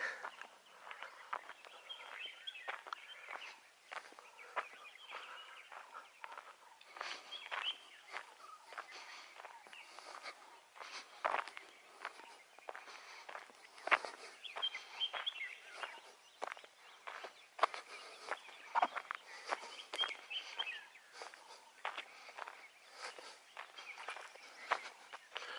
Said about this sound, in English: Ooh, birds all over.